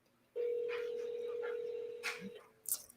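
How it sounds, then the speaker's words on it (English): A steady telephone dial tone hums alone for about two seconds as a call is placed, then cuts off, followed by a couple of faint clicks. "Let's double dial her, though."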